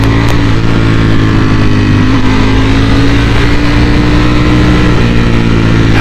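Ducati Panigale V4S in race mode, engine roaring hard and continuously under acceleration, a dense, loud, steady exhaust note holding throughout with rising harmonic pitch.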